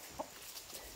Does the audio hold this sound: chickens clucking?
yes